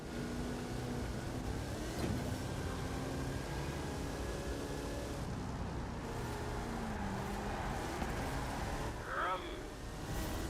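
A big truck drifting in the racing game Forza Horizon 5 during a Hot Wheels finale: a continuous droning engine with a steady, slightly shifting pitch, held at an even level throughout.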